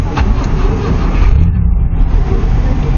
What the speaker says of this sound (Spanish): Arrancó, pero se apagó, señores.